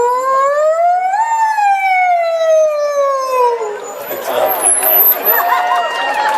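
A person's voice imitates a police-style siren, a loud, steady wailing tone that rises and then slowly falls, then gives way to crowd noise and cheering at an outdoor law enforcement rally.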